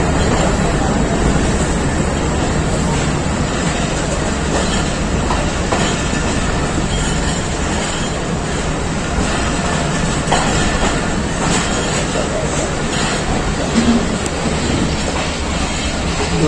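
Khyber Mail passenger train pulling out of Rawalpindi station in Pakistan, a loud steady rumble of wheels and carriages with clickety-clack and occasional squeals, running continuously close by.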